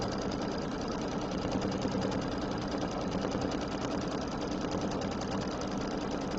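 A sewing machine stitches a quilted table runner in one steady, continuous, rapid whirring run, close and fairly loud, with no pauses and no talking.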